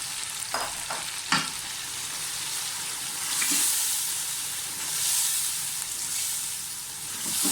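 Marinated mutton fries in a pot with a loud continuous sizzle and hiss, and a spoon scrapes and knocks against the pot now and then as the meat is stirred.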